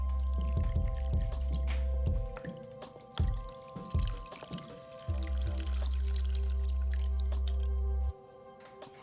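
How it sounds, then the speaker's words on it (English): Braising liquid is poured over spice-rubbed meat in a home kitchen, giving a close, steady liquid pour with scattered drips and soft splashes over a low background hum. "let's go ahead and pour the braising liquid that we've already made."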